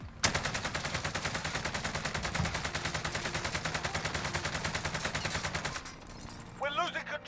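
A Cold War AK rifle fires in Warzone, a long unbroken string of rapid, evenly spaced automatic shots that stops abruptly, followed by brief chirpy game sounds.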